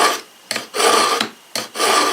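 An Oster kitchen knife drawn through a Work Sharp sharpener, with three long rasping scrapes of steel on abrasive in steady, even strokes, close and loud.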